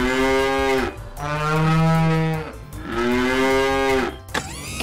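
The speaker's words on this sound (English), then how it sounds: "We've got you mooing like a cow." A cow moos loudly three times in long, drawn-out lowing calls, close and clear with short gaps between.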